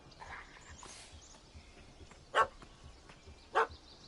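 A dog in The Witcher 3 video game, barking at a cat up a tree, gives two sharp, loud barks about a second apart over faint ambient game sounds.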